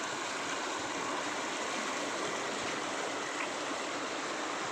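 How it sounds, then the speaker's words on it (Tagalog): A strong stream current rushes along beside a roadside, a constant broadband wash of flowing water heard alone, steady and fairly faint, with no voices. "Ang lakas ng agos."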